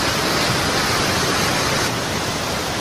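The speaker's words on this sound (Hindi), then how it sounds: "ये जो पानी का जो कलकल का आवाज जो रहता है ना" Malajkudum waterfall pours in a loud, steady rush of falling water, a dense continuous roar with gurgling texture and no pauses.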